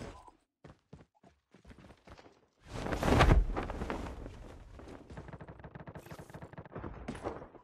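Gunfire erupts in a Call of Duty match, starting with a few sparse taps and footsteps, then a loud burst of heavy blasts followed by rapid, fading shots and scattered crackling.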